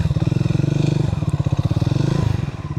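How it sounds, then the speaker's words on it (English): A Triumph Speed 400 motorcycle's high-revving single-cylinder engine runs loudly and close, with a steady pulsing throb that rises and falls slightly across the clip, with no talk over it. "So this is a high revving and high RPM set engine."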